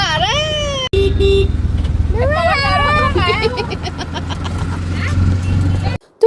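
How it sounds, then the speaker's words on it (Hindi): Riding an auto rickshaw through crowded, busy street traffic near the Mahakaleshwar temple in Ujjain: a constant engine rumble, several wavering horn blasts and crowd noise, with people talking throughout. "तो ट्रैफिक और भीड़ थी बहुत ज़्यादा"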